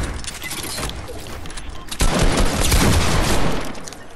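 Loud, rapid gunfire in a video game crackles in dense bursts and grows heavier halfway through, with no talking.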